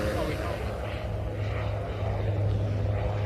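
A light propeller aircraft flies at the Ayr air show, a steady engine drone with a low hum and slowly shifting pitch heard at moderate distance; speech sits partly under it.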